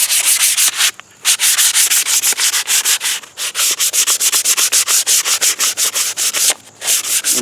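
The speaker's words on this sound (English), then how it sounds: "I sand it all down." Sandpaper rubs steadily along a wooden axe handle to strip the factory finish, a close, loud run of rapid back-and-forth scratching strokes broken by two brief pauses, with no talking.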